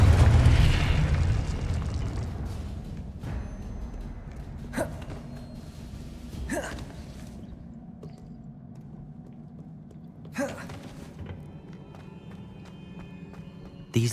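Confringo spell explosion in Hogwarts Legacy: a loud burst at the start that fades into a rumbling tail, followed by several sharp, scattered cracks and pops at irregular intervals.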